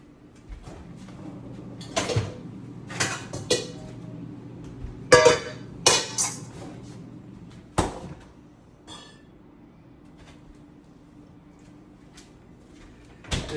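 A freezer door and drawer opened while a chilled mixing bowl and whisk are taken out, with clunks, knocks and sliding rattles at close range, then a quieter stretch before a final bump.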